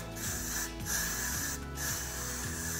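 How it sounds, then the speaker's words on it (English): Short hissing bursts of a spray can coating a hair closure, several in a row with brief pauses, alongside a faint mechanical clicking. "So I'm gonna spray another little coat"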